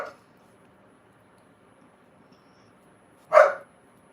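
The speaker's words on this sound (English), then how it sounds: "Yep, you hear the dog." A dog wanting to go out gives a single sharp bark near the end, fairly close, after several seconds of near silence.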